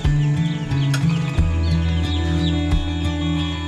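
Chickens on a poultry farm cluck and call continuously, close and fairly loud, several birds overlapping against a steady low hum, with no talk.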